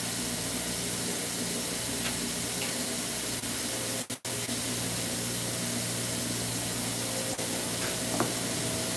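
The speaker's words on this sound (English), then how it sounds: "I was wondering what that sound was, the blower outside." Steady broadband whoosh of a blower running outside, constant and unbroken, with a brief dropout midway and faint distant ticks.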